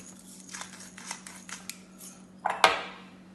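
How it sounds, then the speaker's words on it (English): Boiled potatoes with salt and black pepper are mashed in a bowl, giving soft repeated scraping taps that end in two louder clanks of the utensil against the bowl. "and just mash it down"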